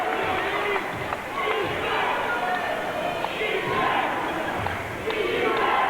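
A basketball crowd roars continuously for the Cougars during a 1999 playoff game between Regina and Manitoba, a loud, sustained wash of cheering and yelling with occasional whistles and no clear break.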